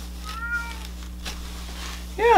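A cat meows softly in an indoor room where bonsai trees are being potted, two brief faint calls with a louder meow starting at the very end over a steady background hum.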